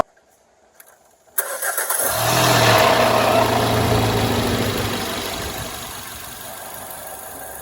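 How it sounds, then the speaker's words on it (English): A car engine cranks briefly and catches, then settles into a steady, close, fairly loud idle during a starter and alternator check with a battery tester, after a few quiet seconds. "So let's go start the car."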